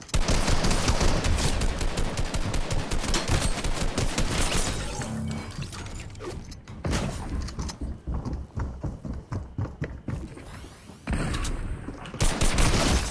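Gunfire in Fortnite, rapid bursts of shots crackling close and loud, thinning out midway and then returning in scattered clusters.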